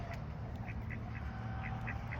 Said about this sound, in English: Here's more ducks.